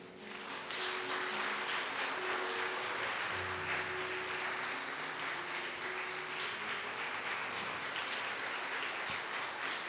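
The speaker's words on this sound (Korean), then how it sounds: "박수로 해주시기 바랍니다." Congregation applause in a church during a New Year's Eve service award presentation, sustained and loud throughout, with a low steady hum beneath the clapping.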